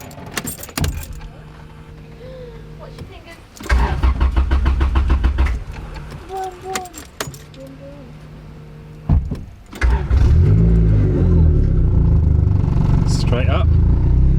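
A turbocharged Honda B18C4 engine in a Civic EF is cranked and fires up for the first time, with starter whirring, key and mechanical rattles, stumbling catches, then a loud sustained rough idle; people talk over it.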